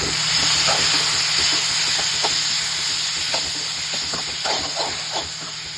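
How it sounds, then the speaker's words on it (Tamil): Three small tomatoes fry in hot oil with cumin for chicken gravy, a constant loud sizzle and hiss close by, broken by scattered scraping taps of a spoon stirring the pan; no one speaks. "3 சின்ன தக்காளி போட்டுக்கோங்க."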